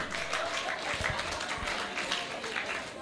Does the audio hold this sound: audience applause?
yes